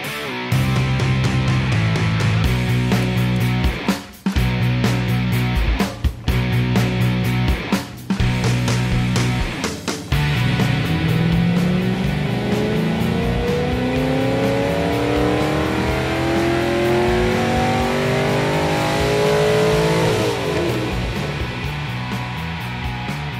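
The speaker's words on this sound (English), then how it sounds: "Now it's time to get our GTO strapped down on the dyno to see how the rockers will perform." A Pontiac GTO fitted with new rocker arms runs on a dyno, idling roughly with a few sharp blips, then winding up in one long loud pull to high revs before cutting off.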